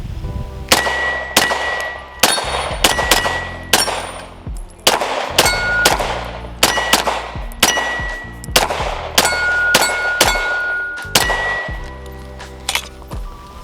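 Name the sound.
gunshots from a neglected competition pistol being test fired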